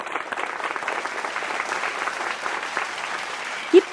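Steady applause from an auditorium audience at a Tamil school and college students' speaking event fills the whole stretch, dense and even, with one brief sharper clap or knock near the end.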